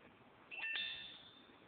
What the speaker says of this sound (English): let's choose the pure bell